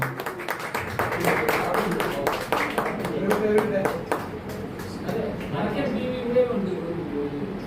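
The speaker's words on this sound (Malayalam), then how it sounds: "പിന്നെ ഉദയഭാനു എല്ലാവരും നല്ലൊരു കൈയടി കൊടുക്കണം" Audience clapping at a stage event honouring women, a dense burst of hand claps running steadily throughout and mixed with a voice speaking over it.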